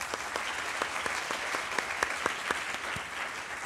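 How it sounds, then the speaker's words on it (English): An audience at a women in STEM event applauds the panel speakers, a dense wash of many hands clapping at moderate distance, steady and even, with a few sharper claps standing out and no speech. "One more round of applause"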